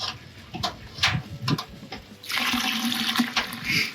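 Liquid sloshes and splashes in an Anvil Foundry 10.5 brewing vessel, first in scattered knocks and drips, then a steady churning rush of agitated water, close by.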